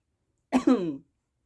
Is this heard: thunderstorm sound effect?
no